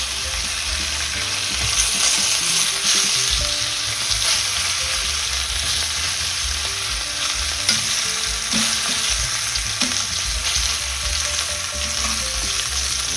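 Osso buco frying in a hot pan, a steady loud sizzle and crackle running throughout with occasional spits and pops, no voices.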